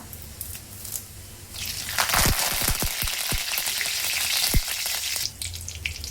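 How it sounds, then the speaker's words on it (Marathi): Cumin seeds and curry leaves hit hot oil with a sudden loud crackling sizzle, sharp pops and spits scattered through a steady hiss that fades slightly at the end. "आता आपण याच तेलामध्ये जिरा टाकून घेऊया, कढीपत्ता"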